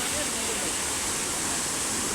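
A large waterfall at a hidden spot near Pokhara, Nepal, roars as a dense, even rush of falling water, close and steady for a brief moment.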